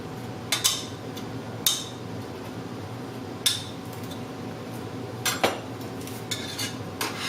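A whisk knocking and scraping against a pot while grits are blended with heavy whipping cream, irregular metallic clinks over a soft background; no voices.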